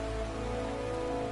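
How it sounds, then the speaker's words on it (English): Steady broadband rain hiss from the video game Final Fantasy IV on PS4, a continuous even wash of falling rain with faint tonal game ambience underneath and no talk. "Wait, it's raining?"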